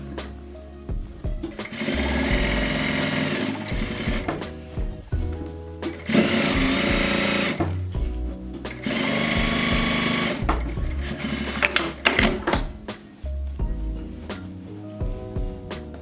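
Sewing machine top stitching along the top edge of a fabric storage container, running in several steady motorized bursts with brief pauses between them, close and fairly loud.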